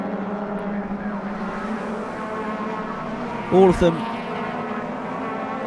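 Honda Civic race cars of various generations in the Tegiwa Civic Cup at Brands Hatch, engines droning steadily in the distance with a brief louder pass midway, under a commentator's voice.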